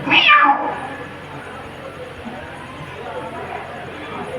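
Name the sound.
voice imitating a cat meowing in a folk story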